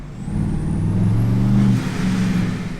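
A Chevrolet Silverado pickup fitted with a TorqStorm supercharger accelerates hard, a loud, steady low engine drone rising in pitch over about three seconds, close and alone with no talk.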